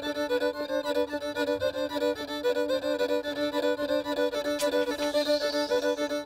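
Mari folk instrument known as the devil's violin, playing a sustained, reedy, buzzing drone rich in overtones with a pulsing, repeated rhythm, heard close and alone without voices.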